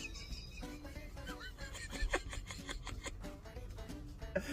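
Steady rough rubbing and rasping of fingers scratching a dog's back, repeated close-up strokes with brief rhythmic bursts, heard inside a truck cab on a cold winter trucking day, no talk over it.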